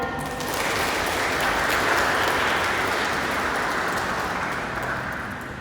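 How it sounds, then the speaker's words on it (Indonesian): Sustained, dense applause from a large audience at a role-play presidential and vice-presidential inauguration ceremony, steady and full for several seconds before tapering slightly at the end, with no talking. "mari kita berikan tepuk tangan yang paling meriah"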